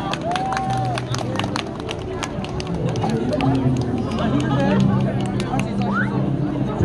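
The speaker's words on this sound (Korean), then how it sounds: "큰 박수 부탁드리겠습니다" A busking crowd in Hongdae claps and cheers amid loud chatter and voices, with sharp scattered claps over a busy, noisy space.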